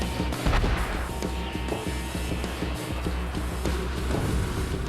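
Heavy gunfire from an AC-130U gunship's howitzer aimed at an enemy tank: dense, sustained booming blasts and rumbling impacts that fill the whole stretch, loud and continuous with repeated sharp reports.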